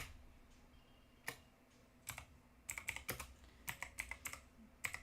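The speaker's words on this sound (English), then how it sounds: "I need to get better at typing." Keys clacking on a computer keyboard in a home setting, a sparse few strokes at first and then quicker bursts of clicks. Close and moderately soft, with no talking.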